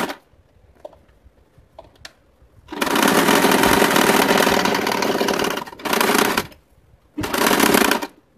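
A sewing machine stitching fabric bag pieces together, running in three bursts: a long steady whir of about three seconds, then two shorter runs, with quiet pauses and faint clicks between.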